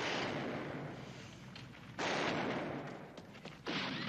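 Gunfire erupts in a Western film: heavy booming bursts, with a loud volley at the start and two more sharp blasts later, each trailing off into a rumbling echo.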